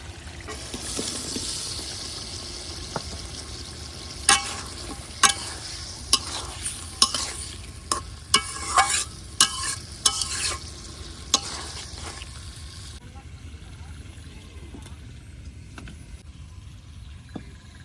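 Cut tomatoes sizzle steadily in a hot pan alongside small fish, with a spoon scraping and clacking against the pan in irregular strokes, until the frying hiss suddenly drops away toward the end.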